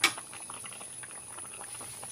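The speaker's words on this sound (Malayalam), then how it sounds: "അപ്പോൾ നമ്മുടെ സ്രാവ് കറി തിളച്ചുകൊണ്ടിരിക്കുകയാണ്" Shark curry simmers in a pot, with faint, steady bubbling and soft popping patter under a quiet background hiss. A brief click comes right at the start.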